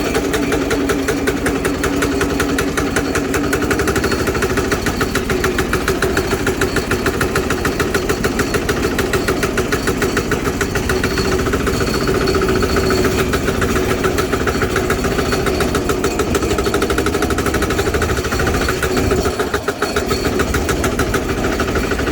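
A diesel engine swapped onto a Sears garden tractor runs nearby with a loud, steady, knocking idle throughout, no voices over it.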